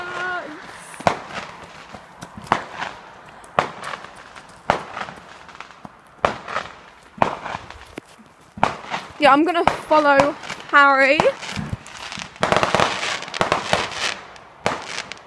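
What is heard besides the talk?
fireworks and firecrackers exploding on bonfire night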